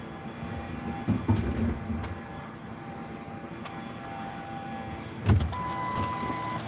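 A truck idles and starts rolling in a residential driveway, a low steady engine rumble with occasional clunks and a brief louder thump near the end, no talk over it.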